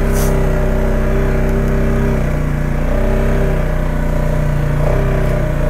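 A 2019 Polaris Sportsman 570 X2 EPS ATV engine runs steadily at low cruising speed in high range, a continuous mid-pitched drone with slight rises and falls in revs and no speech.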